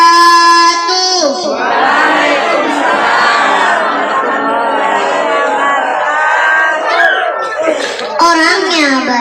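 A large crowd at a Maulid Nabi religious gathering loudly answers an Islamic greeting in unison, a dense mass of voices chanting together for several seconds, with a single voice speaking briefly at the start and again near the end.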